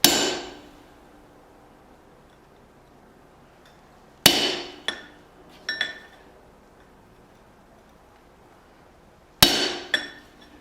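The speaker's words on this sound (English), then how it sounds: "I'm going to use a straight bladed chisel to" A hammer strikes a straight-bladed chisel against hot flat steel bar while forging tongs, three separate rounds of sharp ringing blows spaced several seconds apart, each with one or two quicker follow-up taps fading into quiet.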